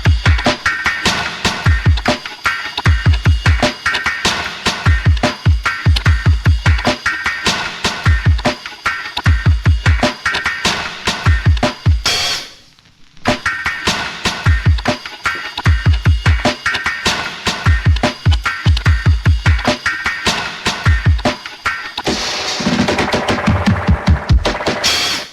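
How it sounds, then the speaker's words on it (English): A gritty, hard-hitting programmed drum beat thumps loud and close, with punchy kicks, snare hits and busy hi-hats. It drops out briefly midway and rolls into a fill near the end. "let's go over those drums just all together"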